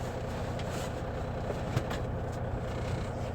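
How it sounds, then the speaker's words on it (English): A broken truck engine idles with a low, steady rumble and rattly vibration, fairly close and constant, with faint ticks over the drone and no speech. "My beautifully broken truck here."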